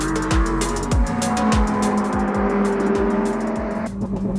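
A Lamborghini Huracan STO engine accelerating hard on a track, loud and close, with a rising howl broken by a quick series of sharp upshifts and a drop-off near the end.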